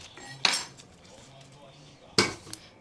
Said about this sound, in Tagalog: hiwain natin